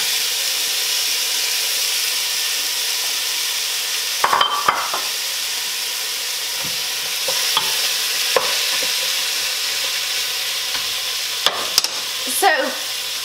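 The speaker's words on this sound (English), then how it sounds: "So, this is our butternut squash. We're gonna add in to our onion mixture." Butternut squash being stirred into a frying onion mixture with sunflower oil, a steady sizzle and hiss under occasional clinks and scrapes of stirring, no talking.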